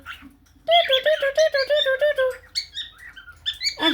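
A pet cockatiel calling close by, a run of bright rapid chirps and whistles followed by shorter squeaky notes, with a voice heard briefly at the start and end.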